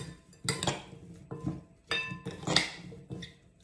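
A chicken curry salad with asparagus and sesame seeds is tossed in a bowl, with a utensil clinking and scraping against the dish in several rhythmic, fairly close strokes.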